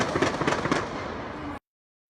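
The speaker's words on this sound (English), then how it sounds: "You are listening to the sound of gunshots taking place in Dallas, Texas" Rapid bursts of sharp popping gunshots during an attack on police officers in Dallas, Texas, several in quick succession over the first second, then a dense crackling wash that cuts off abruptly.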